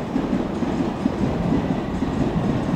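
A District Line train bound for Upminster runs through Barking station, a steady, close rumble of wheels on track with faint rhythmic clatter held at even loudness throughout.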